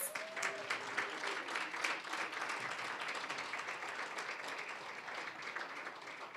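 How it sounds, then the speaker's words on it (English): Steady applause from a crowd at a college scholarship ceremony, a dense wash of many hands clapping at even volume throughout, with no voices over it. "Let's give them a round of applause."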